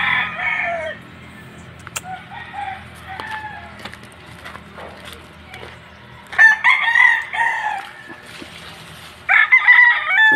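A fighting cock on a farm crows loudly and close in two long, rising bursts, with soft clucks and scattered farmyard noises in the quieter stretches between.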